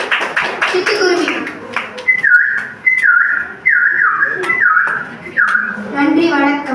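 A performer's voice imitates a sparrow, giving a quick series of short, bright, chirping whistles in repeated bursts, close and fairly loud, with vocal sounds at the start and end.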